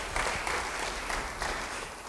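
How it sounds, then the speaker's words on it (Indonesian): Applause from a church congregation during a sermon makes a steady, fairly close wash of clapping hands that lasts about two seconds, with no voices over it. "Yang percaya, beri tepuk tangan bagi dia."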